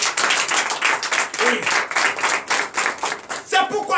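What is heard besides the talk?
church congregation clapping in acclamation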